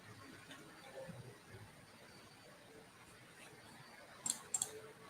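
A computer mouse gives two quick, faint clicks close together near the end, over a quiet background hum with no talk.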